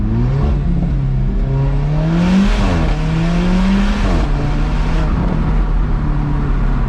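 An Alfa Romeo 4C accelerates hard from close by, its engine rising loud in pitch through a gear, dipping at a shift and climbing again before settling into a sustained roar, with echo around it.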